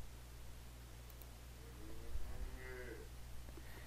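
A single cow moo, played back as a sound effect by a computer program, comes through faintly and briefly over a steady background hiss.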